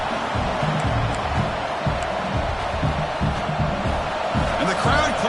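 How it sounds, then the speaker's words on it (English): A football stadium crowd roars steadily as the home side's defense holds in the red zone, a loud dense wash of cheering with a commentator talking over it. "And the crowd coming to life here, trying to help this defense down in the red zone."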